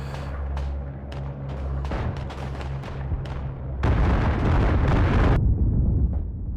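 Artillery shells burst around a WWI mountain battlefield on the Marmolada map in the game Isonzo. A series of sharp, booming blasts is followed by a long, heavy roar of explosions that cuts off abruptly.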